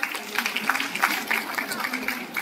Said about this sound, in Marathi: टाळ्यांचा आवाज होते.